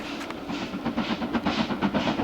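A steam train rolls past with a rhythmic rumbling clatter and chuffing pulses, close and fairly loud, with no voices.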